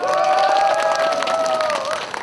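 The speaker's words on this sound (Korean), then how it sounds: "군수님 의장님한테 박수 한 번만 해주세요" A festival crowd at the Jeongseon Mindungsan silver grass festival claps with sustained cheering voices drawn out on top, fairly close and loud, tapering off with a few scattered claps at the end.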